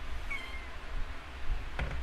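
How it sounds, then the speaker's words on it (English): A pet cat lets out a single short, rising meow early on, fairly quiet against a low background hum, followed by a few faint thumps. "Sorry, my cat is being weirdo."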